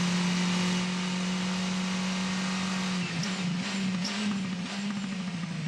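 Formula 4 race cars at Symmons Plains circuit, a loud steady engine drone with a shift and rising revs midway as cars brake and accelerate, no talk.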